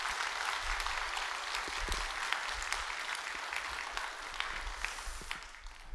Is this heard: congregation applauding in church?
yes